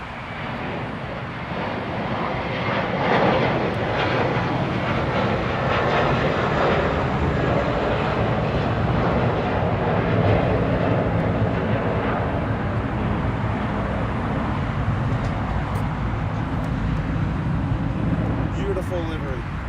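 An American Airlines airplane at LAX roars past, a loud, broad engine wash that builds early and holds steady for the whole stretch, with people talking over it.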